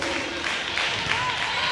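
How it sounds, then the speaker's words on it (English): Varsity volleyball players cheer on their JV squad at a Barnesville match point, a steady crowd roar of clapping and shouting that fills the gym throughout, with a voice talking over it. "As the Barnesville varsity team is cheering on their JV squad."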